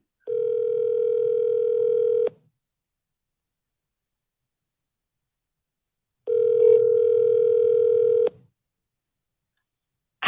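Ringback tone on an outgoing telephone call: two long steady electronic buzzes, each about two seconds, separated by a few seconds of silence, clear and alone without talk.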